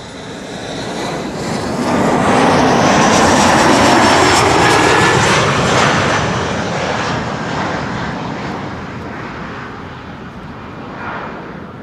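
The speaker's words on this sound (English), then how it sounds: "over here we have an Embraer 175" An Embraer 175 airliner at Amsterdam Schiphol Airport passes with a loud jet engine roar that builds to a peak, then slowly fades as a broad rushing whine.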